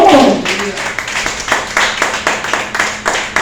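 A church congregation claps in a steady rhythmic beat, roughly two claps per second, after a brief shout at the start; fairly close and unaccompanied by talk.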